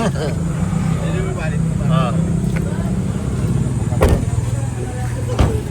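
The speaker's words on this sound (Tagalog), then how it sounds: "May tricycle." A motorized tricycle at a public market in Bolinao, its engine a steady, close rumble running under people talking and general market bustle.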